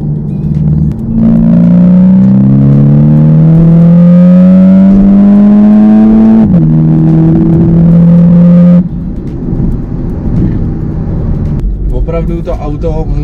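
A 300-horsepower VW T-Roc R with a valved Akrapovič exhaust revs up loudly and climbs in pitch. It dips briefly, holds a high rev, then drops back to a rough idle.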